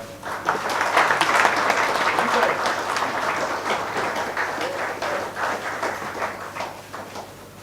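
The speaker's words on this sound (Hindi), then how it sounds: "अब यहाँ देखते हैं कितनी तालियां बजती है डॉक्टर साहब के लिए" A hall audience applauds a doctor at an award ceremony, steady dense clapping that swells early and holds loud and sustained throughout, with no voices over it.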